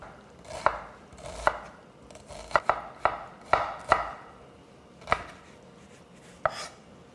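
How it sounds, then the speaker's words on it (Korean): A knife chops onion on a cutting board in about ten sharp, close knocks at an uneven pace, some in quick pairs, with quiet gaps between and no talking. "이렇게 양파를 다 써는 동안"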